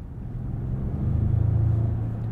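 A 2021 Ford F-150 4X4 SuperCrew Limited pickup with a 10-speed transmission accelerates in tow haul mode, its engine a low, steady rumble that swells slightly as revs climb, heard from inside the cab.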